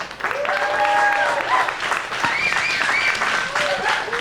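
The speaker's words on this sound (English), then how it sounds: "Please give a warm round of applause for Scheherazade" A warm round of applause from the audience at a design event in Los Angeles, continuous clapping throughout with cheers and voices rising over it.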